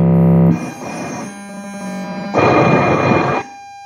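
No-input mixing feedback run through effects pedals, a loud harsh tone with stacked pitches that bursts on, drops to a quieter noisy hum, then surges back loud and cuts off.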